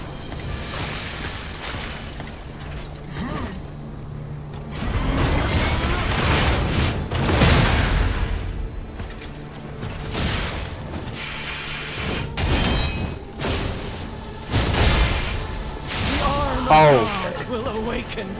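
Combat in the video game Lies of P, with repeated heavy booms and blasts from explosions and projectile attacks interspersed with mechanical clanks, loud and continuous throughout.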